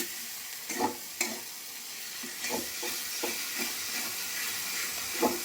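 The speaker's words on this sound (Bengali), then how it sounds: "চিনি দিয়ে মশলাটাকে একটু ভালো করে কষবো।" Spice paste with ginger, garlic and sugar frying in a pan, a steady close sizzle broken by occasional scraping stirs.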